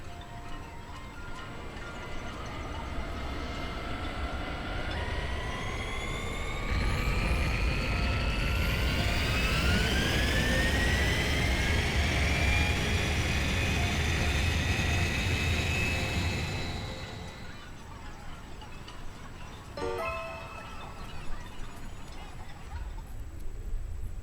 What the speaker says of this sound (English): Prepare for takeoff!